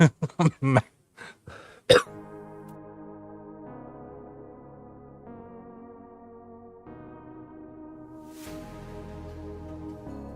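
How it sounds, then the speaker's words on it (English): A quick burst of several sharp coughs in the first two seconds, close and loud, followed by quieter low background hum. "Sorry about that. I had a cough."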